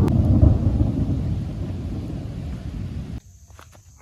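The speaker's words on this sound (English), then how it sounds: "here come the rain." Heavy outdoor rain pours steadily with deep rolling thunder on a homestead, loud and continuous before cutting out abruptly near the end, leaving faint drips.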